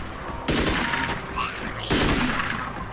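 Bursts of rapid gunfire in the video game Magicka, two loud volleys with a brief pause between, sharp crackling shots close up.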